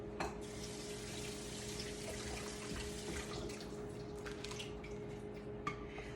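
A kitchen tap runs steadily into a sink as vegetables are rinsed, a faint continuous splash with a small clink near the end.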